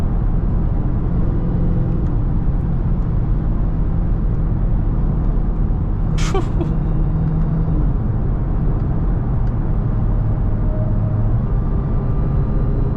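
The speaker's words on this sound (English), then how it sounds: "Let's just listen to that whine a little bit." A Hellcat Charger moving under power with its supercharger whining, a loud steady engine drone with tonal whine lines over continuous road noise, and one brief sharp high chirp midway.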